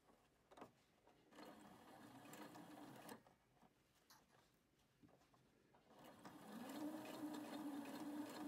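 A domestic sewing machine stitches fabric for a facing, its motor whirring steadily in bursts with short pauses between runs, close and fairly quiet, with a longer, louder stretch at the end.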